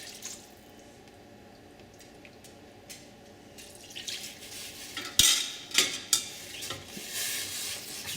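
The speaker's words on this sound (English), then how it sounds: "we're incorporating our roux into our stock, and it's nice and thick" Roux being stirred into stock in a pot for chicken and sausage gumbo, with soft scraping and liquid sloshing that build into several louder knocks and swirls toward the end, close and with no talking.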